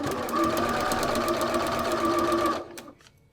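A sewing machine stitches a foundation paper quilt block in a fast, even, close-up whir for about two and a half seconds, then winds down and stops, leaving faint handling sounds.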